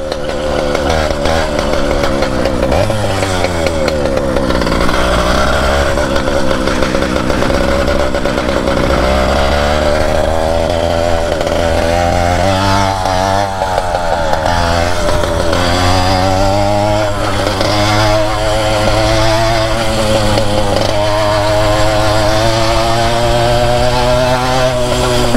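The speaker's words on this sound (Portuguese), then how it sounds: "Ô, na mãe que não força o motor demais." An ARO 20 motorized bicycle, back on the street after a month parked, buzzes loudly and continuously close by, its small two-stroke engine revving up and down in rising and falling sweeps throughout.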